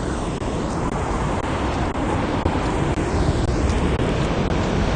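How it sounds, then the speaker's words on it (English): Waves break and wash up a beach in unsettled stormy weather, a constant broadband roar of surf blended with gusty wind noise on the microphone, continuous and fairly loud throughout. "But you can hear the waves."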